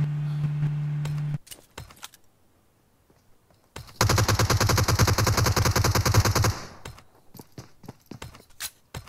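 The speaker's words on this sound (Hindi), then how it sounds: "अच्छा वहाँ से पीछे से कवर फायर दिया जा रहा है सही" Covering fire in the PUBG video game, a long rapid burst of automatic gunfire after a few scattered single shots, loud and close, with a steady tone at the start.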